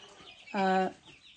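A single short, sustained hen vocalization rises briefly above a soft, murmuring background of other birds and faint noise.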